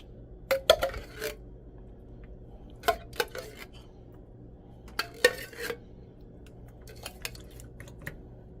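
Metal spoon clinks and scrapes against a baking pan as cherry pie filling is spread for an upside-down cherry cake, coming in sparse irregular clusters of sharp taps against a quiet background without talk.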